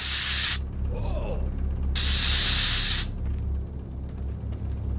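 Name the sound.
health aid spray being used, from VR game Surv1v3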